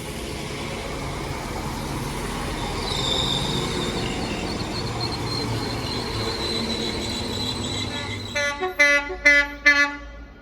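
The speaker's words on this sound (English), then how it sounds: "here comes the 1044 West Midlands Railway service to Birmingham New Street from Shrewsbury" A West Midlands Railway passenger train, unit 196102, on the service from Shrewsbury to Birmingham New Street, rumbles past steadily and close, with a rising wheel squeal and a few short horn toots near the end.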